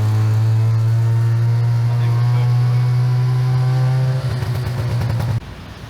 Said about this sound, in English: Just got the tuk-tuk.